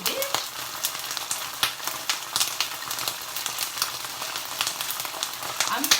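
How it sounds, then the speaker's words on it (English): Ginger added to hot oil sizzles steadily with a bright, crackling hiss and frequent small pops, close and continuous throughout. "So we're going to add some ginger to the oil."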